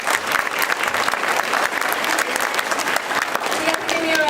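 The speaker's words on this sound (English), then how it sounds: "please give a round of applause for Nan." An audience breaks into sustained, dense applause at a youth camp presentation, loud and even throughout with some crowd murmur mixed in.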